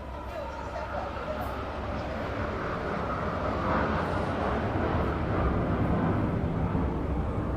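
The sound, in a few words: aerobatic team jets performing at an air show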